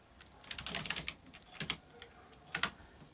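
A password is typed on a laptop keyboard in quick close-up bursts of key clicks, with a short pause between groups and one sharper clatter near the end, and no talking.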